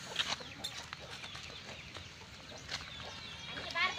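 Close, soft clucking from a rooster in short scattered bursts over faint background noise.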